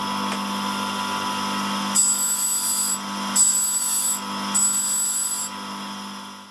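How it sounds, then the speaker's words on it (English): Taking the sharp edge off the corner of a metal rod for a boring bar push rod: three rasping passes of a few seconds each over a steady machine hum, close, without talk. "First thing I need to do is just take the sharp edge off the corner of the rod."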